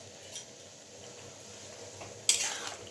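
Milk and cashew paste being stirred into a cauliflower roast in a pan, quiet scraping and a faint simmering sizzle, with a sharp utensil clank against the pan late on; no speech.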